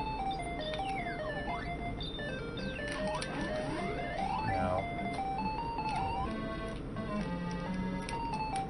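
The hurry-up warning jingle plays in the arcade game Bubble Bobble, a steady, bright electronic tune with sliding tones over continuous game music and effects. A voice briefly says a word.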